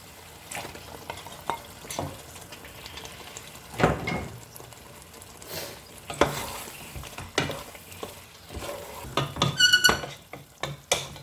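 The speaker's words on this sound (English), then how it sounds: "I'm going to add the prawns." Prawns going into a pan of prawn biryani, with a soft sizzle, watery bubbling and irregular scraping and clinking of a spoon stirring, close and moderately loud.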